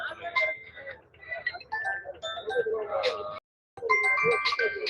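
A mobile phone rings at a busy Friday goat market in Ettayapuram, Thoothukudi, its melodic electronic tone repeating over several seconds amid nearby chatter, with a brief gap of silence.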